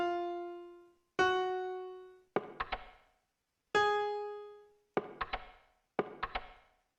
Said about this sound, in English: That's the sound of a broken string.